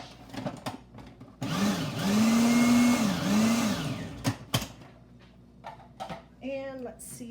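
A food processor whirs in one sustained pulse of a few seconds, rising in pitch and dipping as it chops, loud and close, then stops; brief kitchen clatter and a voice come before and after.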